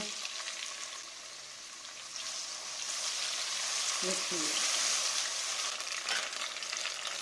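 Loud, continuous sizzling of green chilies and tomatoes hitting a hot pan, swelling as they are added, with a few clinks of a utensil.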